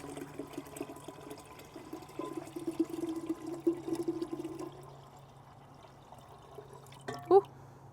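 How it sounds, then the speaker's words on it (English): Water mixed with flower food trickles and pours into a vase holding a sunflower arrangement, a soft splashing run followed by a brief louder pour near the end. "I have more water to add with my flower food."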